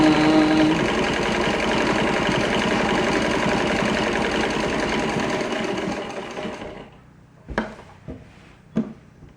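A Singer 15-88 treadle sewing machine on a custom commercial table runs loud and close in a fast, even mechanical chatter for about seven seconds, then winds down. A few sharp knocks follow in near silence.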